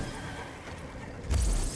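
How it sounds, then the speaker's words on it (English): A horse mount in the video game Elder Scrolls Online neighs as it appears, a short whinny that ends in a loud, sudden burst of sound near the end. "I like how the horse just comes up out of the ground."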